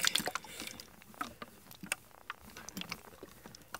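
A neti pot bottle with saline solution is shaken gently, giving soft, irregular sloshing and squishing liquid sounds with small clicks, close up and with no talking.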